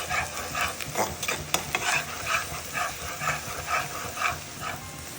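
Plenty of chopped onion fries in mustard oil, giving a steady sizzle under repeated scraping strokes of a spoon stirring the pan, close and moderately quiet.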